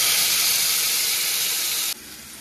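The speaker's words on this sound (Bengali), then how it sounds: "এবারে দিয়ে দিচ্ছি বেটে রাখা মশলাটা।" Ground spice paste with a raw ginger edge hitting hot oil already seasoned with dried red chillies, cinnamon, cardamom and whole cumin; a loud, steady, close hiss that drops sharply in level near the end.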